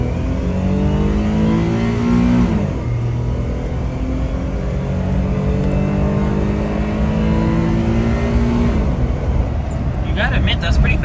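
An automatic 3-speed carbureted Kei van accelerates, its engine note climbing through the gears with shifts about a third of the way in and near the end, loud and close, while a person talks over it.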